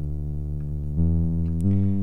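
A clean, sustained sine-wave bass from a simple Serum synth preset in a beat, holding low tones that step up in pitch twice, with soft hints of higher sweeps as the waveform shape is automated.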